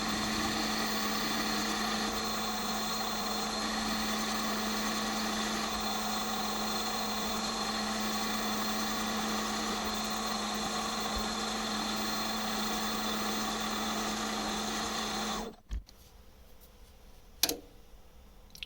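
A metal lathe takes a 1.5 mm cut on a steel dial gauge spigot, running with a steady, loud tonal whine and a constant machining drone. The motor then stops abruptly, leaving a near-silent workshop with one sharp knock.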